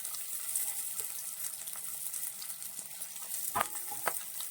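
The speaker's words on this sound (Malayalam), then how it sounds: "ഇത് നന്നായിട്ട് ഇനി ഒന്ന് വഴറ്റിയെടുക്കണം. നല്ലവണ്ണം ഇതൊന്ന് വാടി വരട്ടെ." Curry leaves, green chillies and shallots sauté in hot oil for a fish curry, giving a soft, steady sizzle with a couple of brief clinks from stirring near the end.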